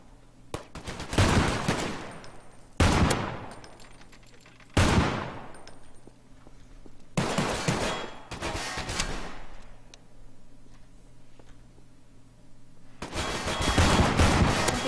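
Gunfire in a Garry's Mod DarkRP game: loud bursts of shots in several separate volleys, each dying away into quiet with a low steady hum beneath, and a heavier sustained burst near the end.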